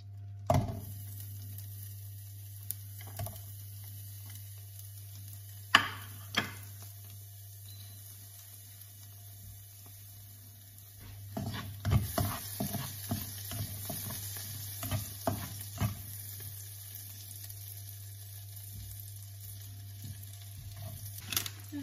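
Chopped onion frying in butter in a pan, a quiet steady sizzle with occasional stirring scrapes and taps that get busier partway through, under a constant low electrical hum.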